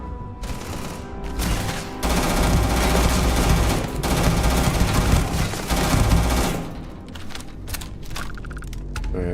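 Enemy gunfire in a Starfield firefight comes as loud, sustained volleys of rapid automatic shots and dense clatter, close and heavy for several seconds before easing into scattered reports.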